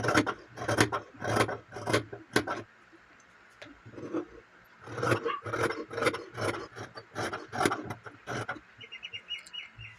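Scissors snip through blouse band fabric in quick bursts of rasping cuts, close and fairly loud, pausing briefly before another steady run of snips.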